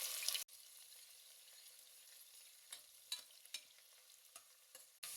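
Sliced onion, curry leaves and dried red chillies fry in a pan for mutton curry, giving a soft, continuous sizzle broken by a few scraping stirs of a spoon. No talking.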